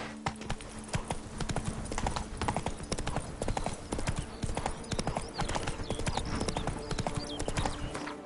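Roach, Geralt's horse in The Witcher 3, gallops in a fast, steady rhythm of close, crisp hoofbeats that continue without a break, with a faint low hum behind them.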